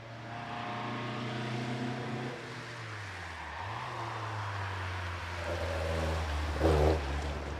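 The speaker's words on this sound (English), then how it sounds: "Steve Thomas in this really interesting little TVR Vixen on his way" A little TVR Vixen sports car climbs the Prescott hill climb course, its engine note rising and falling through gear changes, a droning motor that drops, swoops up and builds, with no talk.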